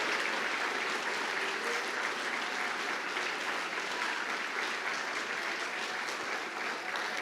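A church congregation applauding during a Pentecostal-style sermon, a steady, dense roar of many hands clapping that holds evenly for several seconds without talk.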